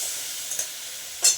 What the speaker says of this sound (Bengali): চলো ভালো করে মশলাটা কষিয়ে নিই।